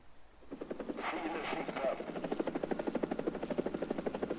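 A Swedish attack helicopter carrying Hellfire missiles in the combat game War Thunder, a rapid rhythmic rotor thump that builds and stays steady, with brief muffled talk early on.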